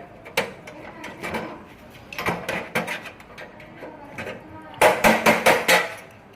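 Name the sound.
gas stove burner being opened up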